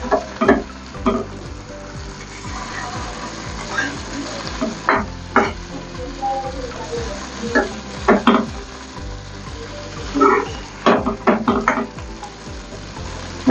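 Onions fry and sizzle in a pan until golden for a Bengali butter chicken, a steady close crackle broken by repeated sharp scraping stirs of a spoon against the pan.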